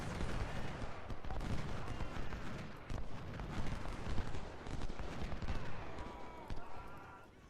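Dense, rapid cannon fire from the Ultimate General: Civil War battle at Chantilly, a continuous rumble of booms and cracks rolling over one another at close range.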